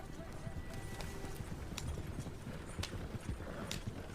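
Horse-drawn carriage hooves clip-clop in a steady, quiet rhythm as a sound effect in an audio story, with a narrator's voice speaking over them.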